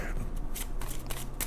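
Oracle cards shuffled by hand during a tarot-style reading, a soft rapid riffling flutter with brief snaps, close and continuous with no talking.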